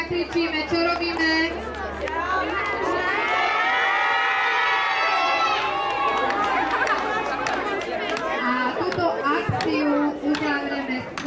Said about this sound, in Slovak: všetci zakričíme, čo robíme.